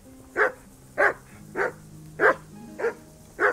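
A dog barks six times at a steady, even pace in a medieval village setting in the game Kingdom Come: Deliverance, each bark loud and close over a low ambient background.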